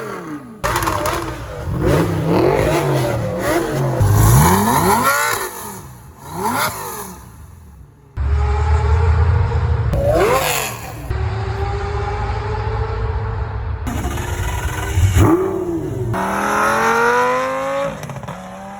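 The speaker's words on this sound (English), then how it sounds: "It didn't use a V12, but it did use an engine with 2 less cylinders, a V10, and good gosh, it sounded amazing" A Lamborghini Gallardo V10 engine revs loud and close in repeated sharp bursts, rising and falling pitch sweeps with brief drops and quiet gaps between pulls.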